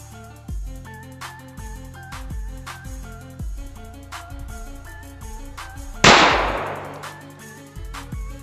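A gunshot fired at a belt buckle in an outdoor myth test: one loud, sharp crack with a brief ringing tail, set against busy background music with a steady beat.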